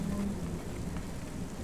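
Steady rain pours down in a city street in the game Cloudpunk, a constant wash of falling water with a brief low rumble and a sharp thump at the very end.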